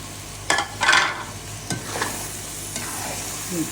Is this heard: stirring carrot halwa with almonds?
yes